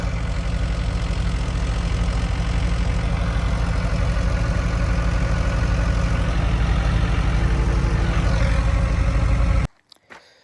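A farm tractor engine runs close by, with a steady low throbbing chug. It keeps the same pitch for most of the time and then cuts off abruptly near the end, leaving a few faint knocks.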